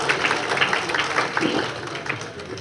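An audience at a Tamil stage talk claps together as a greeting, producing a dense, continuous patter of many hands that stays fairly loud and even throughout.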